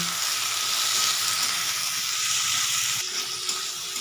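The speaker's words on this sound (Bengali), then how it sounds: "এটা আমি একটু মশলাটা কষিয়ে নেব" Spice paste with cashews and a medium tomato sizzles steadily in a pan for a Bengali katla fish korma, a dense continuous frying hiss at close range with no talking.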